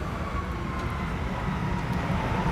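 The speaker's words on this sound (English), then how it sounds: "I hear an airplane taking off behind me." A steady, loud roar of an airplane taking off somewhere behind, a broad continuous rumble that holds level throughout with no talking over it.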